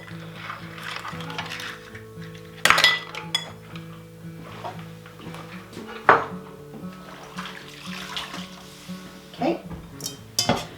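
Four eggs go one by one into a mixing bowl for pumpkin bread, each marked by a sharp crack or clink against the rim at spaced intervals, over a low steady kitchen hum.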